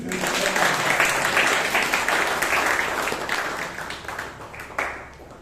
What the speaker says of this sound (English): I think she deserves a lot of applause.